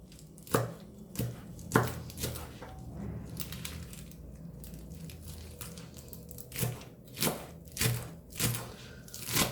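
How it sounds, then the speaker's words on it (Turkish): Knife chops through spinach on a board in uneven bursts of sharp thuds, with quieter scraping and handling between strikes. "Bu şekilde doğrayacağım."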